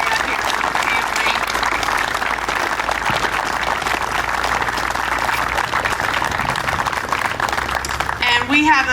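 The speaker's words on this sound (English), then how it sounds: "So I want to give you guys a round of applause for Bill and Victoria here, family." A crowd at a youth opening ceremony claps in a steady, dense round of applause that fills the whole stretch, with voices and cheers mixed in beneath it.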